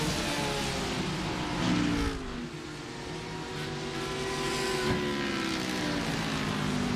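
Audi race car engine in a sim racing video game during a 12-hour endurance event, a steady loud drone with harmonic tones that dip and climb through gear changes, with no talk over it.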